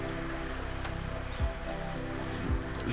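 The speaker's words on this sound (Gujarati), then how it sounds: "આટલામાં તો ખતરનાક વરસાદ આવી ગયો ઘડીક વારમાં" Heavy rain pours down while someone stands under a shed roof in a village with cattle nearby, a dense, steady roar of falling water with a couple of low thumps.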